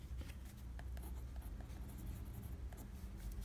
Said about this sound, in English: So let me write it here.